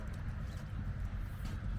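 Horse hooves clip-clopping close by, a steady irregular patter over low rumbling noise, no talk.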